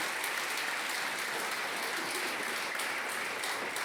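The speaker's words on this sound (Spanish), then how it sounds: "Apláudele fuerte." A church congregation claps steadily for a few seconds during a sermon, an even, moderately loud wash of many hands with no voices over it.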